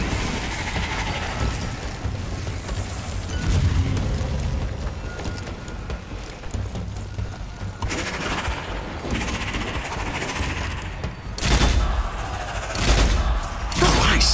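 Rapid bursts of gunfire from the Strange Brigade video game rattle through a game scene, with a sustained fusillade and a few louder volleys and booms standing out near the end, while faint voices may sit beneath.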